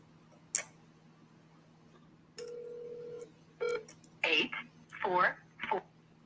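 A telephone line gives a single steady electronic tone lasting under a second, preceded by a faint click. Voices then talk over a quiet phone connection.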